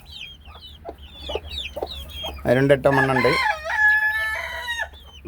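Native country hen and chicks clucking and peeping close by, with a louder harsh squawking burst in the middle, then someone speaking.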